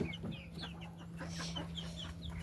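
Laying hens in a pen clucking and calling in short repeated bursts, close and fairly clear over a low steady hum.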